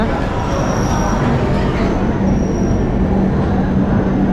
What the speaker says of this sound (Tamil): விஜயவாடாவிலேருந்து இப்போ ட்ரெயின் வந்து கிளம்பிருச்சிங்க.